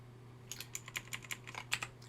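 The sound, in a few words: typing on computer keyboard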